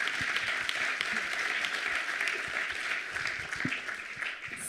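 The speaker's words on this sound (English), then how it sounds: "You can make a beautiful round of applause for our guests." A conference audience claps for its guests in a dense, steady round of applause that stays even throughout and thins slightly at the end.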